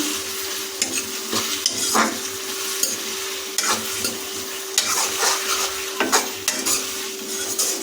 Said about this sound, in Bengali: এটা ভালোভাবে আরও কিছুক্ষণ নাড়িয়ে নেব